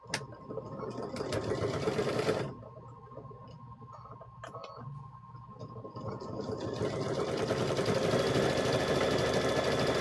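A sewing machine makes a short straight-stitch run on a quilted handbag, back-stitching at the top, followed by quieter ticking and handling sounds, then a longer steady mechanical whir builds toward the end.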